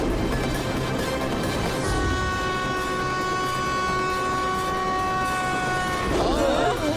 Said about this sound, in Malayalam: ഓപ്പോസിറ്റ് വരുന്ന ട്രെയിൻ ഇതേ ട്രാക്കിലൂടെ വരുന്നത്.